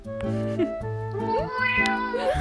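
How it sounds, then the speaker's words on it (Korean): A cat at a lodging gives several close, clear meows in quick succession, each one a rising, wavering cry with short pauses between them. "고양이가 말도 한다."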